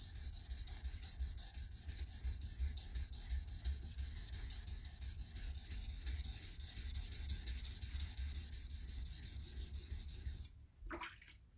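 A sharpening blade's bevel is rubbed back and forth on a diamond resin stone, a quiet, steady gritty scrubbing with light rhythmic strokes that stops abruptly near the end.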